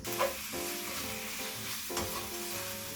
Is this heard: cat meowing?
no